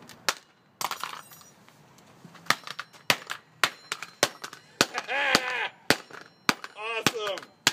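Hammer blows beating a hard drive apart, sharp metallic impacts landing one after another at an uneven pace, close and loud, with people talking between the strikes.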